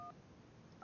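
Telephone keypad dialing tones on a car phone in the Nancy Drew game Secret of the Scarlet Hand, two short dual-tone beeps at the start and end of a brief quiet stretch with no talking.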